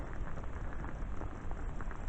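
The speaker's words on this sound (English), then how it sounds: "We need this rain really bad." Steady rain falls at a lake in the uplands, a dense, even hiss of drops with no breaks, close and fairly loud over about two seconds.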